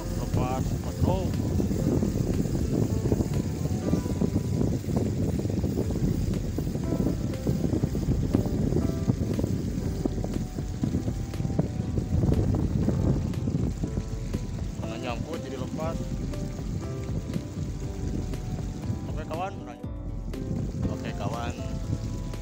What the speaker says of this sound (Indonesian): hari ini mancingnya anginnya sangat kencang sekali